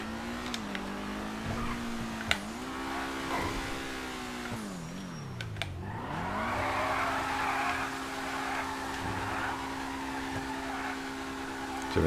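A Rapid GT Classic car in a video game does a burnout: a steady engine drone drops and rises again as the revs change, then turns into a loud, rough tire-squeal hiss, with sharp clicks along the way.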